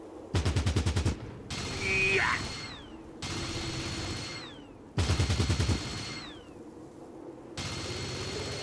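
Automatic gunfire bursts in the tactical game Fallout Tactics: Brotherhood of Steel, two long rapid rattling volleys of about a second each, loud and close, separated by softer game ambience and tones.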